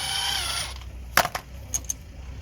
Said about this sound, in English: So 17mm spanner to lock the guide pin, and then 13mm socket